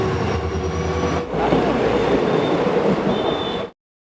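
A train rolls past with a loud, continuous rumble and rattle of wagons, holding steady for several seconds before cutting off abruptly.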